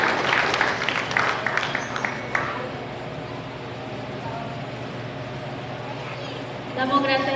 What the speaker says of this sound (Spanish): Regálale un fuerte aplauso, Señor.